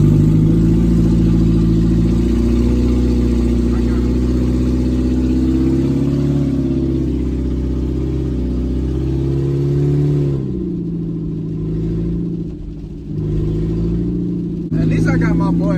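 A car with its catalytic converter stolen roars loudly and continuously, the engine note rising and falling as it revs, with the drone dropping near the end while someone talks over it.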